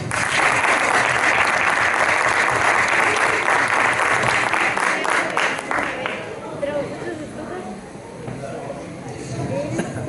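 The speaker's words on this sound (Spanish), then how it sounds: "Bueno, primero un aplauso." Applause at a VEX IQ robotics competition: loud, dense clapping for about six seconds, then it thins out and fades into a quieter room murmur.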